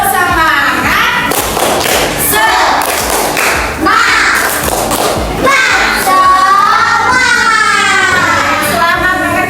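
Classroom of fourth-grade children doing a rhythmic spirit clap together, loud thumping claps in quick patterned bursts mixed with children's voices chanting and shouting along.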